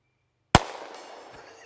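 One sharp, loud pistol shot from a Taurus GX4 fired at a target 100 yards away, cracking suddenly out of silence and then trailing off in a brief outdoor echo.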